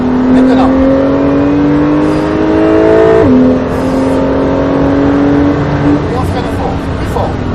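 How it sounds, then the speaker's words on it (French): Porsche 911 Carrera S at full throttle on a racing circuit, loud in-car engine note climbing steadily, a quick gear change dropping the pitch before it climbs again, with people talking over it. "on commence à accélérer"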